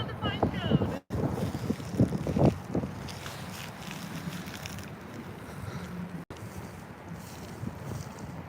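Gusty wind rumbles across the microphone outdoors, strongest early and then settling into a steady low roar, with voices talking over it.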